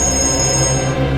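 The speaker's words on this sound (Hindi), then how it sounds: "एक मिनट, फोन आ रहा है" Phone ringing as a steady sustained electronic tone, loud and close, lasting about a second without speech.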